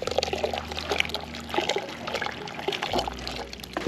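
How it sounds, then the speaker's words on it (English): Watery porridge paste poured into a pot while cooking a traditional Togolese dish, a steady liquid pour and trickle with a low background hum, fairly close. "Then you pour it in."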